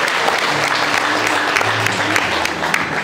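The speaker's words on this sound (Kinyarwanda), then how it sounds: "Amashyi menshi dushimire" A wedding audience breaks into loud, sustained applause, many hands clapping together in a dense, continuous patter that fills the hall.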